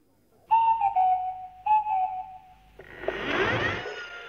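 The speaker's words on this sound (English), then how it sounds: "reading those peculiar sounds of the Swanee whistle" Swanee whistle from a children's animated programme, playing two short sliding tones with a pause between, each clearly whistled, followed by a broad rushing noise burst.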